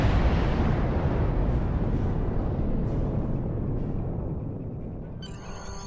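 A torpedo explosion in the Star Trek Online space game, heard as a loud, deep rumbling blast that swells at once and then slowly fades over several seconds, ending with a brief bright electronic chime.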